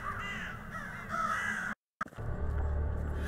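Crows caw repeatedly in the Saint Kotar video game, harsh calls over a dim ambient bed, cut by a brief silence before a low rumbling hum returns.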